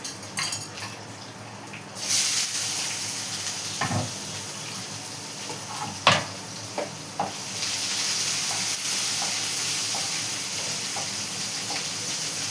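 Spices temper in hot oil in a home kitchen, giving a constant loud sizzle and crackle, with a few sharp clinks of a utensil against the pan along the way.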